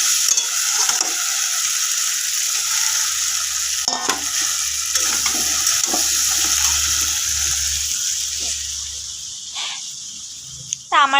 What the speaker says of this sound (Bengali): এখন আলু আর মশলাটা একটু কষে নিচ্ছি